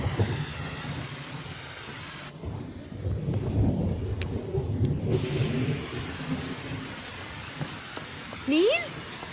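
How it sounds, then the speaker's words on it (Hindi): Rain falling with distant thunder, a soft steady wash of rainfall and low rumbles, with a faint background voice. "I just love the rain."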